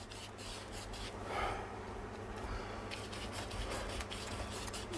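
Steady soft scrubbing of a paintbrush making crisscross strokes of black paint down a canvas, a continuous close rasping texture with no talking.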